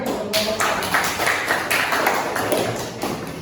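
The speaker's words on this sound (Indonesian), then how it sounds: "Ya, tepuk tangan lagi." A classroom of students applauding after a group presentation in an Indonesian mathematics class: steady, dense clapping from many hands, close and loud, with no pause.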